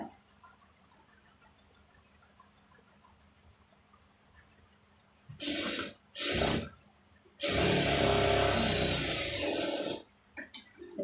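Sewing machine stitching a sleeve join, heard as a few short bursts and then a longer whirring run of stitches after a quiet stretch, fairly close and without talk.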